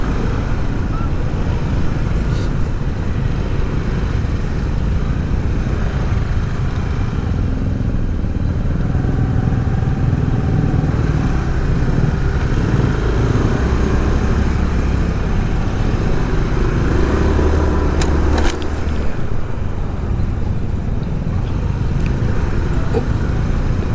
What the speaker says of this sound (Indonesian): Jalur rawan crowded, rawan macet setiap harinya di sini.